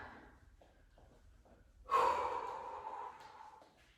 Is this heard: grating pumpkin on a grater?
no